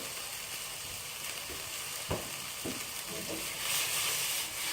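Vegetables cooking on high heat in sesame oil keep up a constant bright sizzle while a spoon stirs them, with a few scraping knocks against the pan standing out from the frying.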